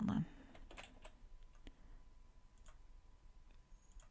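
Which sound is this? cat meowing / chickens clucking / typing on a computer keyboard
typing on a computer keyboard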